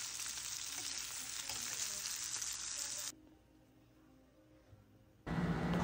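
Pieces of rui fish frying in oil in a pan, a steady bright sizzle that drops to a low hiss for a couple of seconds before loud frying returns.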